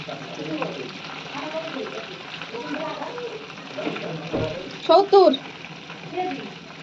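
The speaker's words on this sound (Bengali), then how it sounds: "এই তো সব কটা চিকেন ফ্রাই উল্টানো শেষ" Chicken pieces frying in hot oil in a pan, a steady close sizzle and crackle running throughout with a couple of brief louder spits near the end, while a voice talks quietly over it.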